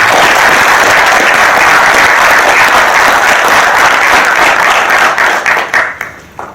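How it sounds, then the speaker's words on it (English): Warm applause from an audience at a Jersey City peer support team presentation, a dense sustained clatter of many hands that holds steady and then thins and fades out over the final second. "I just want to give him a round of applause."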